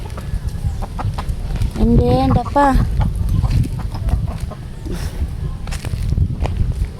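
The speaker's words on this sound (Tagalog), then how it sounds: "So darabay mao ni mo mga manok mga puti" White chickens on a small gamecock farm cluck nearby, with a short burst of rising calls standing out over footsteps and rustling while a person talks.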